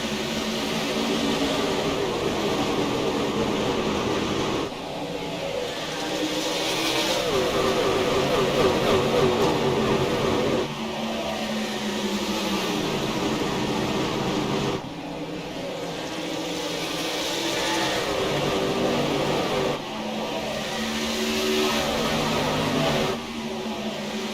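National Outlaw Racing Association Truck Series racing trucks at Rockingham circuit roar past in repeated waves of engine noise, swelling and fading as they lap, with an announcer's voice faintly mixed in.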